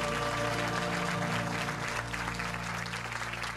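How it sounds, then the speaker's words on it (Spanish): A church congregation claps during worship, a dense, continuous wash of applause over sustained music with steady tones underneath, at a fairly even level throughout. "Denle un aplauso a Él."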